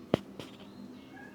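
A cat meows once indoors at home: a single short, fairly loud call, followed by quiet room tone.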